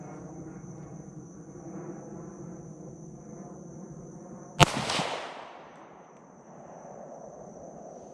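Ruger 57 pistol fired outdoors at 60 yards, a single sharp loud crack followed by a rolling echo that fades over a couple of seconds, set against a faint background hum.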